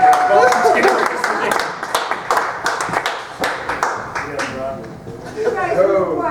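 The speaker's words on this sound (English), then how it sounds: "All right, give a round of applause." A comedy show audience claps for volunteers, with scattered hand claps that rise and fall through the clip under voices and chatter.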